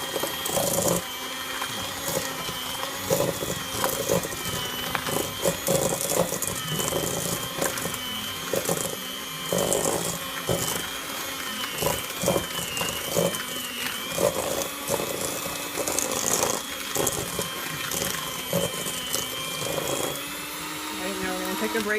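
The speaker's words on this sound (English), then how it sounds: "you're going to mix this on, I'd say low to medium speed just to get it well incorporated." An electric mixer beats sugar cookie dough at low to medium speed, whirring steadily close by, with the motor and beater clatter running under a person talking throughout.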